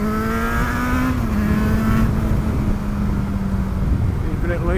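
A motorcycle engine revs loud and close during a downshift under braking. Its pitch sweeps as the throttle is blipped, with wind rush over it throughout.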